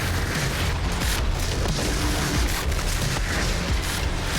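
Dense, continuous booming blasts and rapid weapon fire from the Outriders video game, loud and close with overlapping low rumbles and no pauses, no talk.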